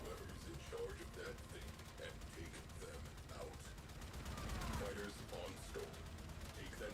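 Rapid turret gunfire rattles in a video game, a quiet, steady stream of repeated shots with mechanical clatter running under faint background sound.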